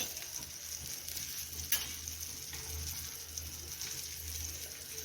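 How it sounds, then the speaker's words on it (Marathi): A flour-coated surmai fish fries in a pan over medium heat, giving a faint, steady sizzle with soft crackles and one brief sharper pop, with no talking. "मस्त असं मध्यम आचेवर आपण हा मासा फ्राय करून घेऊया तर हा सुरमई मासा आहे"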